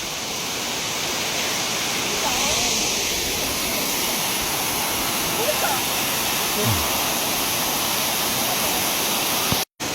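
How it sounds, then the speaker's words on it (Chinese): A waterfall beside a dry cave on a nature outing gives a loud, steady roar of rushing water that fills the entire span without a break. "这个瀑布叫春穴"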